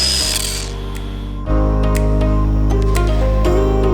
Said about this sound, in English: now we get to test out the 1-inch polisher, but got a 12mm throw on it